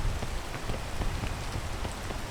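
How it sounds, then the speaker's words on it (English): Rain pours down in a video game, a dense, steady patter of countless drops striking surfaces with scattered sharper splashes, continuous and without any talk. "I feel like I should be getting rained on right now because it is raining"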